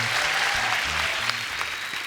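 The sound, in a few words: loud applause from studio audience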